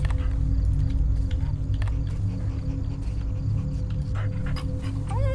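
Dog panting in the game Fears to Fathom, rapid rhythmic breaths close up over a constant low ambient hum, with a brief whine near the end.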